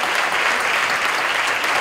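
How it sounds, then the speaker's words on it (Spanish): An awards-ceremony audience claps loudly and steadily, a dense, even wash of applause with no voices over it. "un fuerte aplauso, por favor"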